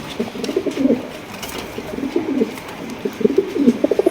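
A pair of black Lakha pigeons coo in a steady string of soft, throaty, rolling calls, close by and repeating through the whole stretch with short pauses between phrases.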